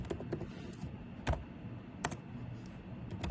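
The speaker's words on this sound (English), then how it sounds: "So this we have to type it out, Arjun Gore" Computer keyboard typing during a Docker command-line session: a few sharp, separated key clicks over a low background hum, close by and sparse rather than a steady run.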